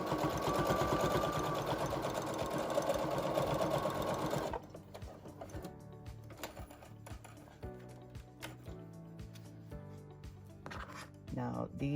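A home sewing machine stitches through thick layers of T-shirt fabric for a face mask, a loud rapid whirring run that stops abruptly, followed by quieter handling clicks and rustling while a person talks.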